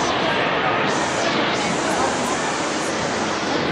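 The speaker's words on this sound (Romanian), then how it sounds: "Uitați acolo cascada" A waterfall roars as a loud, steady broadband rush of falling water at an indoor venue, continuous and close, with no clear speech.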